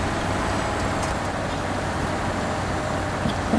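Noisy truck engine without a muffler in the SnowRunner off-road driving game, a steady, rough low drone running continuously at moderate loudness with no talking over it.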